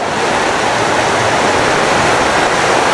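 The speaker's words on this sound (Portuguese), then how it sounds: "a enxurrada desce com força pela encosta e invade as casas" Floodwater torrent rushing hard down a hillside in Cubatão during a heavy storm, a loud, dense, continuous roar of churning water close by with no break and no voices.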